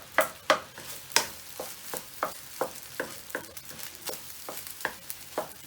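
Egg being mixed and fried in a hot wok over a wok burner turned down low for fried rice, with a steady faint sizzle broken by repeated scraping stirs at a regular rhythm.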